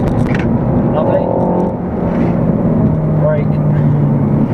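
Renault Megane RS300 Trophy hot hatch driving on a track, a steady engine drone and road roar heard from inside the cabin while a person talks over it.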